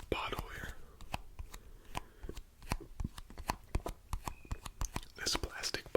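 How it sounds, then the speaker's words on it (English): Fingers press down on a plastic bottle and pull off, making a rapid series of sharp suction pops and sticky slaps under close whispering. "if I do it just right with my fingers, I press down and pull them off, then it kind of gives a suction sound effect"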